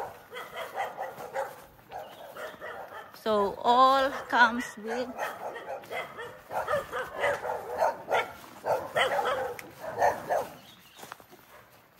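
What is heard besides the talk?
dogs barking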